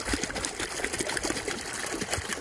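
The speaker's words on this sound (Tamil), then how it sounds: "தண்ணி ஓடிட்டுருக்கு, தண்ணி சவுண்டு கேட்குதுங்களா?" Water runs and gushes steadily near a motor-pumped outlet where people bathe, a continuous close rushing wash with no talk over it.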